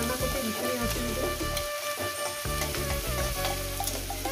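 Garlic sizzling in hot oil in a pan while cooking Malabar spinach with katla fish head, a steady crackling fry with a light stirring texture and faint background sounds.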